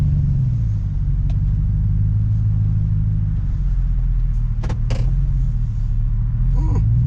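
A Harley-Davidson motorcycle engine fitted with a Black Widow 250 exhaust idles at zero throttle with a deep, steady low rumble and throbbing pulse, close and loud throughout, with a few faint clicks and a brief small noise near the end.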